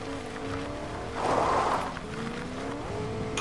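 A video-game truck drives along with a steady droning engine that swells briefly into a louder rushing surge, then settles back to a low continuous hum with no talk over it.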